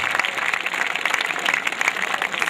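Crowd applause welcoming a poet at an IIT Roorkee poetry event, steady sustained clapping from a sizable audience throughout, no voices over it.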